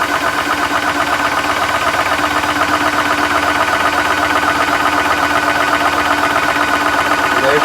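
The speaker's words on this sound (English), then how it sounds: "Start the compressor with the bleed valve open" A PCP Kong Lil' Foot air compressor runs steadily with a loud, constant mechanical drone and buzzing hum throughout, close by with no pauses.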